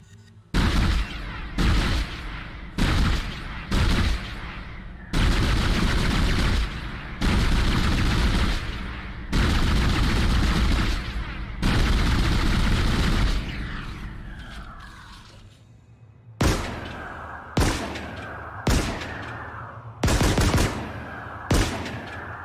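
Heavy automatic bursts from the pulse rifle in the Dead Space Remake, loud rattling volleys of several seconds each, broken by short pauses, then a run of quicker, clipped bursts near the end.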